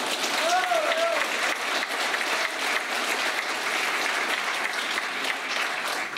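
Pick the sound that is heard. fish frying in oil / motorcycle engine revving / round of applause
round of applause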